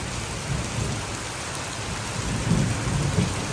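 Steady rain with low rumbling thunder rolling in the distance, the rumble swelling louder in the last second of a continuous downpour.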